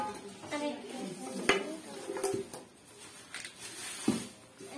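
Metal cooking pots, including a golden one, an ash-coloured one and a lid, knock and clink together faintly in a few light, scattered contacts close by, over a quiet room.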